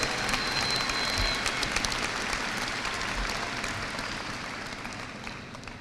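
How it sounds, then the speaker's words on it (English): A large crowd applauds graduates at the Martin High School class of 2017 graduation ceremony, sustained dense clapping filling a big hall and easing gradually. "A round of applause for your graduates."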